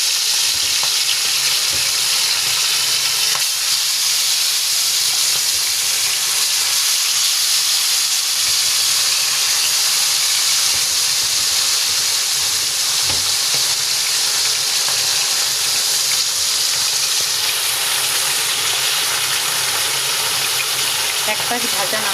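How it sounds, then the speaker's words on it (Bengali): Bata fish sizzling in well-heated oil in a kadai, a loud, steady frying hiss running unbroken throughout with faint stirring sounds underneath. "এবার একে একে বাটা মাছগুলো দিয়ে দেব।"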